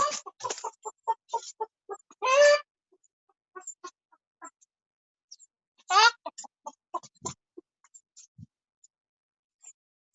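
Chickens cluck nearby in a farmyard with short clipped calls in irregular bursts, a couple of longer squawks standing out between quiet gaps.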